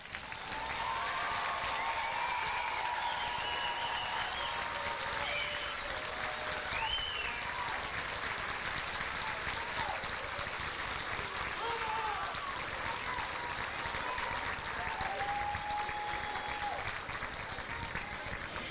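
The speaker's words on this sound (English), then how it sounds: "please stand for another well-deserved round of applause" Sustained audience applause at a high school academic varsity awards ceremony, a dense continuous roar of clapping from a large crowd lasting the whole stretch, with scattered voices and cheers mixed in.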